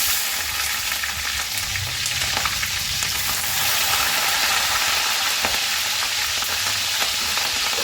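Slit green chillies frying in hot oil with bay leaves, dried red chillies and whole garam masala, giving a steady, loud, close sizzle and crackle with occasional stirring, no voices.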